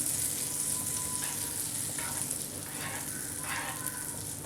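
Oil and a spoonful of butter sizzle steadily in a hot pan on a low flame, a continuous close hiss and crackle with faint stirring, no talking.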